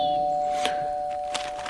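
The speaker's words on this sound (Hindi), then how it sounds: "तभी दरवाजे की डोरबेल बजी।" A doorbell rings inside a house, giving two short, sharp chimes about a second apart over a steady background hum, with no one talking.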